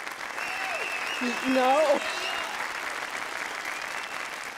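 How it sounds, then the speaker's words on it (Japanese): Applause from an audience at a venue in the video game Yakuza 0, steady clapping under a spoken announcement, with a brief short voice. "勇気あるご判断をなされたこちらのお客様にも拍手を。"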